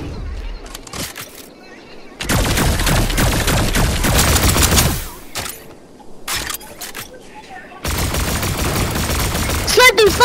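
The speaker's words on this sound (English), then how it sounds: "Sniped him, sniped him! I sniped him!" Rapid gunfire and sniper shots in a Call of Duty match come in dense, loud bursts separated by short gaps, with excited players' voices talking over the action.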